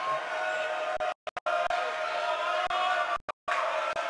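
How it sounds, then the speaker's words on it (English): Crowd at a high school boys' basketball game on senior night in a gym, a sustained roar of cheering and voices from the stands, moderately loud with brief dropouts, under no clear talk. "Fans finally getting into it a little bit more."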